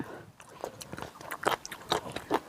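Fresh raw squid dipped in spicy seafood sauce is bitten and chewed close to the mic, giving a series of crisp crunchy bites in an uneven rhythm, with soft mouth noises in between and no talking.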